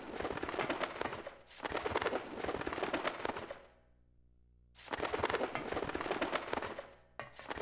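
Rapid bursts of gunfire from a character shooting at nothing in Silent Hill, loud crackling volleys in two long stretches separated by a brief lull, with no talk.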